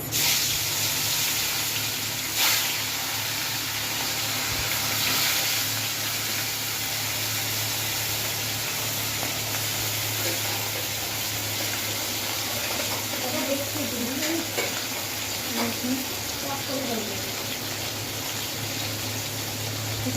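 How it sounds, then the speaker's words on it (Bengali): Large hilsa fish pieces fry in a hot wok with a loud, steady, broadband sizzle that continues throughout, while a person talks over it at times. "তারপরে গরম কড়াইতে দিয়ে দিল বড় বড় ইলিশ মাছের পিস।"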